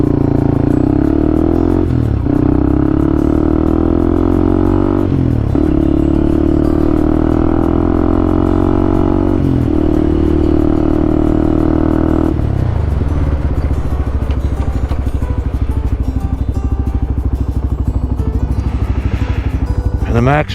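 Benelli TnT motorcycle accelerating up to about 30 mph: a loud close engine drone that climbs in pitch through several gear changes with brief dips between them, then settles into a steady rougher run.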